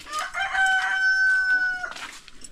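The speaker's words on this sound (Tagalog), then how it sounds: "Ay, mga manok." A rooster crows once, a long drawn-out cock-a-doodle-doo close by, with faint clucking and rustling around it.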